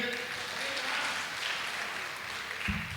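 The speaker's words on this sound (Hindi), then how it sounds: "एक बार ताली और बजा दिए।" Audience applause at an All India Mushaira poetry gathering in Lucknow, a steady wash of many hands clapping through the whole stretch, moderately loud, with a brief low voice entering near the end.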